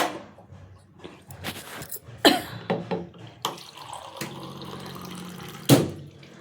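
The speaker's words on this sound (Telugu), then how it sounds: "కొంచెం వాటర్ మిక్స్ చేసి వేస్తాము" Water splashes and swirls in short bursts, with a few sharp clinks and a steady liquid rush near the end, close by.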